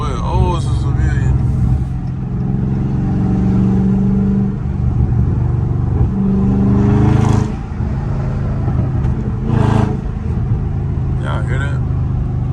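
A loud Dodge Charger Scat Pack moves through traffic, its engine rumbling steadily up close and surging in a few brief revs, with a person talking over much of the sound.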